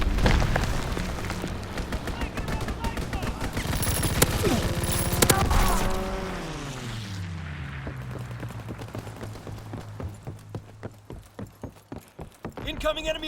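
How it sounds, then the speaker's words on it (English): Heavy booming artillery fire and rattling gunshots in Call of Duty WW2, dense and loud at first, then a descending whine fading into scattered distant shots. "Incoming enemy artillery! Get to cover!"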